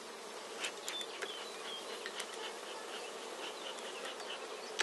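Honeybees buzz in the air around a hive while a small nucleus colony is moved into a full hive, with many faint wingbeat drones and brief passes of individual bees close by. No one speaks.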